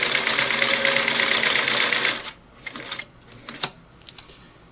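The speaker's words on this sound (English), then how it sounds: "I'm just going to sew number 6 straight stitch here" A Singer Model 347 sewing machine runs a straight stitch in a steady, loud whir for about two seconds, then stops, leaving a few scattered clicks and handling knocks.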